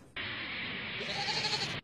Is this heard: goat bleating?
yes